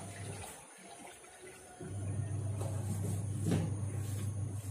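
Dishes are washed in a home kitchen under a running tap, with a steady stream of water and clinks of vessels being handled, the flow growing louder partway through; no one speaks.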